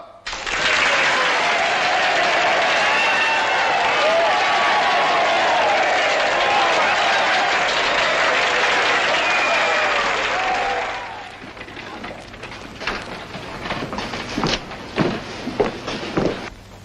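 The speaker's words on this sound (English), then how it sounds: "Applaud!" A crowd in a classic Western film bursts into loud, sustained applause for about eleven seconds, then it cuts away to quieter room sound with scattered thumps and footsteps.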